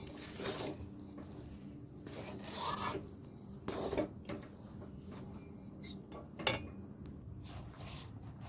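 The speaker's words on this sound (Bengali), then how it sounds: "আমি কড়া থেকে চালের গুঁড়িটা নামিয়ে নিয়েছিলাম, আর এরকম মেখে নিচ্ছি।" Rice flour dough is kneaded by hand at close range, with rough rubbing and squishing strokes that come in uneven bursts against a quiet background.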